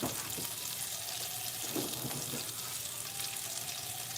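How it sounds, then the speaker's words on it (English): Sweet peppers fry in a skillet with a steady broadband sizzle, joined by brief splashy, watery bursts like a tap running nearby; no talking. "I have some sweet peppers in the skillet here."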